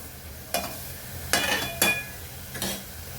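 Tomato puree sautéing in a pan with ginger and garlic for dal makhani: a low background sizzle broken by four separate scraping stirs, close and clear.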